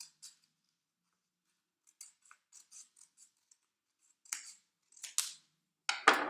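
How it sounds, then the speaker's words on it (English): Sharp snipping of scissors cutting a paper Möbius strip loop down the middle, a scatter of short crisp cuts that grow louder and quicker toward the end, otherwise quiet. "you're going to take your loop and your scissors, and you're just going to cut straight down the middle"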